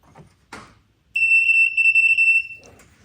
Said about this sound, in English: one of these is going to make the buzzer go off.